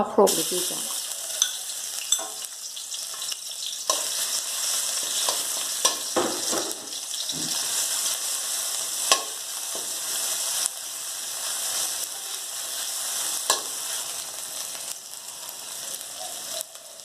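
Chilies fry in a little oil in a pan, giving a steady bright sizzle with occasional stirring scrapes and clinks, close and fairly quiet, no talking.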